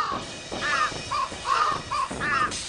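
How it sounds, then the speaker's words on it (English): Birds caw repeatedly in the video game Thirty Flights of Loving, a rapid overlapping series of harsh crow-like calls, loud and close, with no talk. "And birds flying in the air?"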